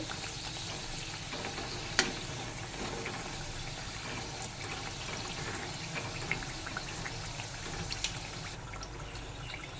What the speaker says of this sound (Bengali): এখানে আমি লো টু মিডিয়াম ফ্লেমে ভাজছি